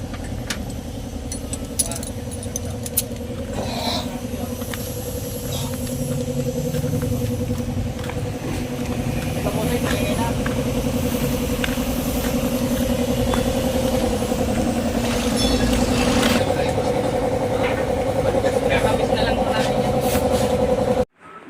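A Toyota Fortuner engine idles steadily up close, with a light metallic rattling and ticking from its worn AC clutch pulley running through it; no one speaks.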